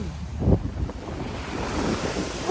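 Rough surf crashes and churns nearby on Manila Bay after rain, with wind buffeting the microphone and a surging wash of water throughout.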